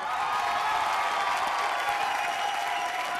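Loud, steady applause from a studio audience at a televised singing contest, continuous clapping filling the room with a faint crowd murmur beneath it.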